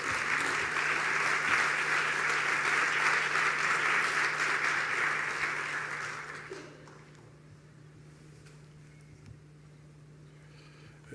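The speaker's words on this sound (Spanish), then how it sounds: "les pido para recibirlo un fuerte aplauso de parte de todos ustedes" An audience at an education symposium's inaugural session gives a strong round of applause welcoming the Secretary of Public Education, dense clapping for about six seconds before fading into room hum.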